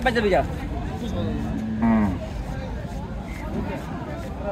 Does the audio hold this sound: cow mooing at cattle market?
yes